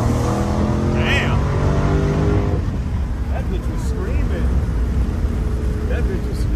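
A 500-horsepower Dodge Charger Scat Pack engine revs hard at full throttle, a loud sustained roar that sweeps upward early on, then holds a steady drone.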